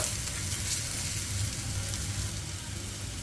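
Ash gourd frying in a pan with chopped onion and green chilli, a dense, even sizzle with faint stirring underneath, steady and close throughout without talking.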